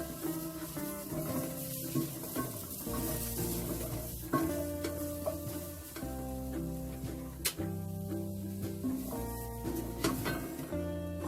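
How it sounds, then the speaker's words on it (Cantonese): Ginger pieces dry-roasting in a bare wok for pig trotter and ginger stew, a steady soft sizzle and scrape of stirring that carries on without pause, up close and alone. "白鑊烘一烘呢個薑。"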